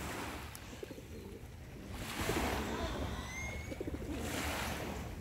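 Doves, known locally as palomas de Castilla, coo softly outdoors at morning in Omoa, Cortés, Honduras, with surf-like washes of background noise and faint other bird calls.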